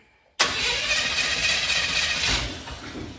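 A junkyard T-bucket hot rod engine cranks briefly, then catches and settles into a steady, loud running rumble close by.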